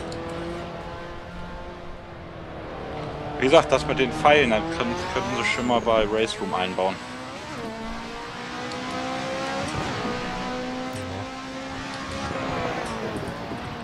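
A Lotus 98T Formula One car in the racing game Assetto Corsa at Imola, its engine revving and whining through rising and falling pitches with bursts of tyre squeal, while someone talks over it.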